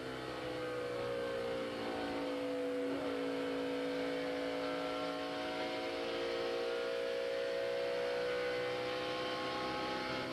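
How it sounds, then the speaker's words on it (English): A NASCAR race car engine in a video game drones loudly and continuously as it goes around a corner at Motegi, its pitch sagging slightly then climbing again as it pushes on. "Let's take a ride with Dale Jr. and listen as he goes around the corner."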